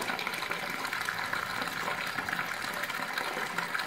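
Water runs steadily from a tap while henna is mixed in a bowl, a continuous close hiss and splash with no talk over it.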